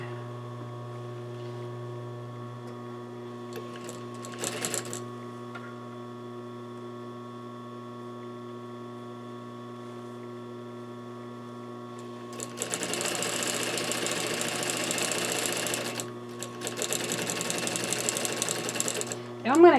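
A sewing machine stitching the corner seam of a bench cushion, running in a short burst, then in a longer sustained stretch with a brief pause, over a steady background hum.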